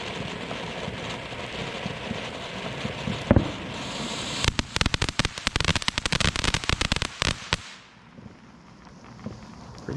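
A Black Cat Moonshine spinning fountain firework erupts with a hissing burst, then breaks into a dense, loud run of sharp crackling pops that lasts several seconds before cutting off into quieter outdoor ambience.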